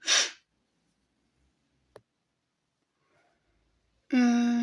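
A short burst of breath opens the clip, a brief click follows after quiet, then a loud voiced outburst ends it, like an allergy sneeze.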